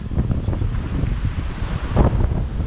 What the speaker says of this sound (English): But yeah, the ocean is rough.